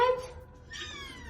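Two cats meow indoors, one short bright meow followed by a longer, wavering meow, close and fairly loud with faint room noise.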